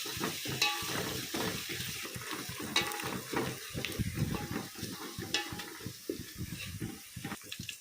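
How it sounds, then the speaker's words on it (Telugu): Sliced onions frying on high flame, a soft continuous sizzle with stirring scrapes and clinks, fairly faint and without talk. "ఆనియన్స్ గోల్డెన్ కలర్లో క్రిస్పీగా ఫ్రై అయ్యేంత వరకు హై ఫ్లేమ్లో ఫ్రై చేసుకున్నాం ఫ్రెండ్స్"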